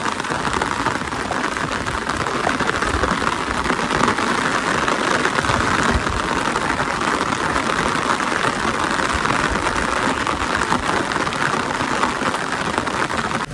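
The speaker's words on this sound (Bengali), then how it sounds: "দেখেন বৃষ্টি জোরাইতেছে" Heavy rain pours down steadily, a dense, even hiss of drops drumming on surfaces close by, unbroken for the whole stretch with no voices.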